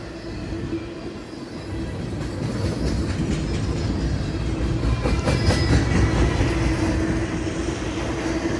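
A freight train hauling intermodal containers and loaded auto racks from Chicago rolls past close by, with a steady loud rumble, rhythmic clicking of wheels over rail joints and faint squeals throughout, no voices.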